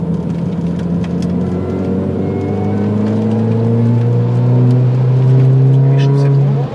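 A car engine revving hard and holding high revs, a loud sustained drone whose pitch climbs in long sweeps and keeps rising toward the end, with a voice talking over it.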